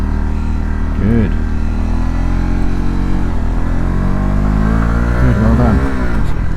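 A motorcycle engine drones close and loud, its pitch rising in two short revs as the clutch is let out too quickly, with a person speaking over it.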